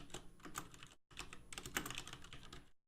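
Rapid typing on a computer keyboard while editing text in the Vim editor in a Linux terminal, a dense run of close key clicks with a brief pause near the middle.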